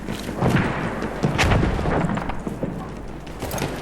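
Gunfire and artillery-like booms in a World War I shooting video game with light machine guns and sniper rifles, sounding as a dense run of loud cracks and blasts throughout, with no voices.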